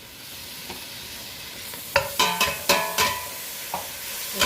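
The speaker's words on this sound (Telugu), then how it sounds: "పెరుగు వేసి దీన్ని ఒకసారి బాగా కలిపేద్దాము." Yogurt being stirred into a one-pot veg biryani with biryani masala, starting as a soft sizzle, then a spoon scrapes and knocks against the pot in several close, uneven strokes.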